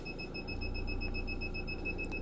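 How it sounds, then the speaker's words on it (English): Steady high-pitched electronic beeping from a Fiat Ducato van with the electric hookup still on repeats at a quick even pace, fairly quiet, over a low background hum with no talking. "That's beeping because the electric hookup's still on."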